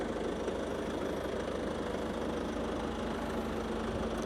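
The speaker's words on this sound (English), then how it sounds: "Engine sound is also working very nice." A 2016 Ford Kuga engine idles steadily at a low, even rumble, running alone without voices for the whole stretch.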